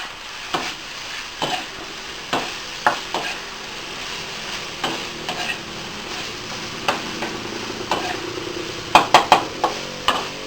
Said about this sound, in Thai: ส่น้ำมันหอยลงไปนิดนึง แล้วก็คั่วค่ะ